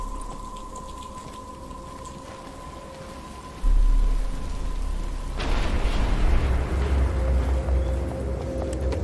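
Rain in the video game Batman Arkham Asylum, starting as a quiet hum with a tone, then a sudden dense downpour with rumbling thunder swelling loud and steady.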